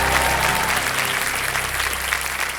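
Studio audience applause on the Kaun Banega Crorepati quiz show, a dense, steady wash of clapping from a large crowd that holds loud and even for a couple of seconds.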